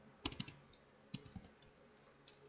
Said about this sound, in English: So in order to do that, we need to type